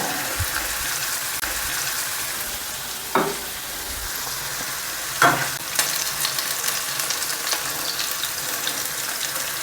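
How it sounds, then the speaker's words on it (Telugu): Onions and green chillies frying in hot oil in a pan for restaurant-style chilli chicken, a steady close sizzle throughout with two sharp stirring clatters and crackles partway through. "ఆనియన్స్ ఆనియన్స్ వేయించుకోండి మిర్చి వేసుకోండి"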